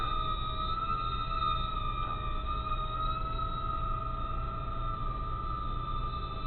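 Estes Proto X mini quadcopter hovering indoors, giving a steady high-pitched motor whine with stable tones and an even level throughout, no voices.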